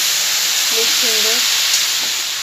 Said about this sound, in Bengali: নারকেলটা পাকানো হচ্ছে।